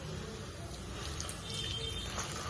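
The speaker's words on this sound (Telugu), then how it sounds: "కొంచెం నీళ్ళు పోసుకుందాం, దానికి సరిపడా." Water poured into a salt fish curry in a pan, a steady trickling wash of liquid heard alone and fairly close for a couple of seconds.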